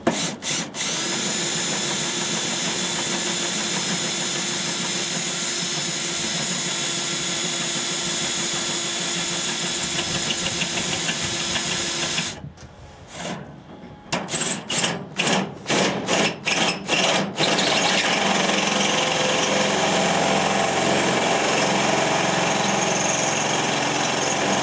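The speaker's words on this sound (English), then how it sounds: "So what I got to do is drill that pop rivet out that's in there" A power drill whines steadily and loudly while drilling out a pop rivet on a trailer body, then stutters in short on-off bursts before running continuously again.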